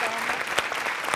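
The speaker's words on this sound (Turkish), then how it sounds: "O zaman alkışlarla hemen damat beyin abisi Hasan Bey'i buraya davet ediyoruz" Studio audience applause on a Turkish TV morning show during a henna-night segment, steady dense clapping filling the whole moment, close and full.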